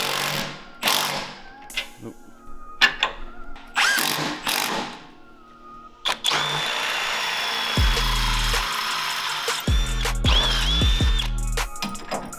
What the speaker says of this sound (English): we're gonna have to drill both holes on both sides